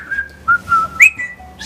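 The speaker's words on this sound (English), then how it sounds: "Oh, a whistle." A person whistles a short tune with several clear, fairly loud rising and gliding notes, heard alone with no talk.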